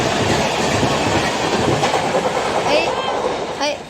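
A passenger train pulls out of a station with a continuous rumble and clickety-clack of wheels, close by, with a couple of brief squeals as it rolls away.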